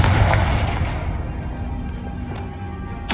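A Confringo spell explosion in the Hogwarts Legacy video game, a dense boomy rumble fading from the start, then a sharp bright crack right at the end.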